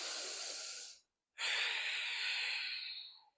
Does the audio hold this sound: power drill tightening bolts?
no